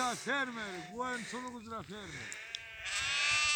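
A series of wavering sheep bleats, several in quick succession, loud and close, then fading into an outdoor hiss.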